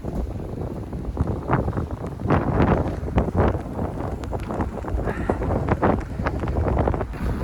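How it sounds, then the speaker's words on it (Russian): Strong blizzard wind in Irkutsk buffets the microphone in rough, surging bursts, rising and falling loudly without pause. "Вот просто стою, метет."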